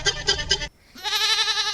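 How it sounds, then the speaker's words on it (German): A goat bleats in three quick wavering pulses, pauses briefly, then lets out a longer nasal bleat, all close and clear. "Das ist ein Geiss, das ist kein Schaf."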